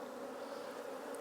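Honey bees foraging on borage buzz steadily as a dense, continuous hum, close and even in level with no pauses.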